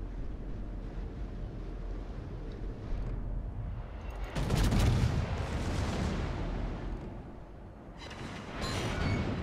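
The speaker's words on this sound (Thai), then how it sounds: "ปืนลองยิง ตกน้ำ" Secondary guns on the battleship Giuseppe Verdi fire in World of Warships, with heavy booming salvos and shells splashing into the sea. Loud bursts land around the middle and near the end over a low rumble of wind and water.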